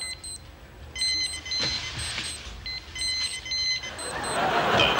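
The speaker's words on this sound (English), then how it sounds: "The Digital Alarm Watch." Digital alarm watch beeping in short, thin, high electronic bursts, repeated in clusters over a quiet room tone with some soft rustling and background noise.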